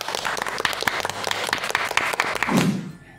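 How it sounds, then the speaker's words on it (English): A class of students claps for themselves in a classroom, a burst of quick, uneven hand claps that builds briefly and then stops abruptly near the end. "Let's clap for ourselves"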